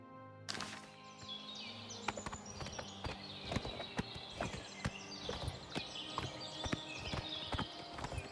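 Hooves of a riderless horse in Skyrim clip-clop steadily on the ground in an even walking rhythm, fairly close and moderately loud, with faint bird calls in the background.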